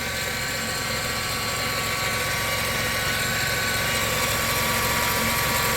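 The engine of a 2000 Grand Voyager, parked for years and fitted with a new belt pulley, runs at a steady, loud, close idle with a continuous droning hum.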